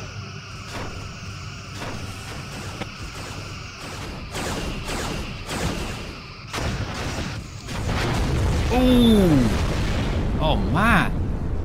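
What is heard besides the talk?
chronoton torpedoes hitting starship in Star Trek video game battle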